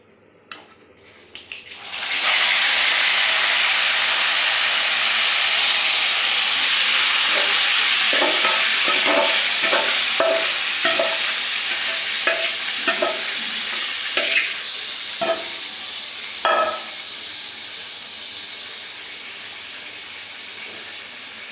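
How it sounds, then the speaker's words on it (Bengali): Spice-marinated meat hits a hot pan with a sudden loud sizzle that roars on steadily, broken by repeated scraping and clattering as it is stirred. "এই যে মাংস মাখায় রাখছি মশলা দিয়ে, এই মাংসটা দিয়ে দিই"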